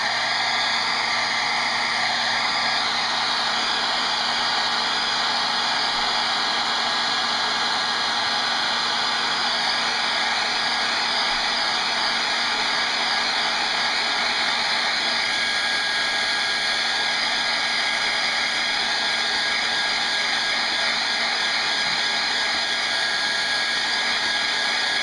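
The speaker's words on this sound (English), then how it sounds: "Take the dryer." A hair dryer runs continuously over a watercolor painting of rocks and trees, a loud, close, steady whirring blow with no breaks for the whole stretch.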